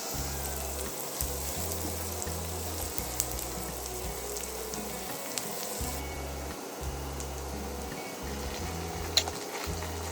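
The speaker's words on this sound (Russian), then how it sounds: "Вторую часть лука, порезанного кубиками, высыпаем в сковородку в разогретое растительное масло." Diced onion frying in a pan of heated vegetable oil with turmeric, a steady soft sizzle with occasional crackles and faint stirring clatter, close by and fairly quiet.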